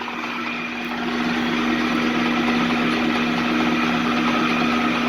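A Rockwell machine motor runs steadily at around 80 rpm, giving a continuous, even hum with a strong tonal drone, close and moderately loud, with no talking.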